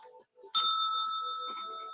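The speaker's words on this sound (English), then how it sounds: "Is the bell annoying?" A single bell rings out once with a sharp strike, then its bright metallic tone hangs and slowly fades, close and clear after a faint murmur of voices.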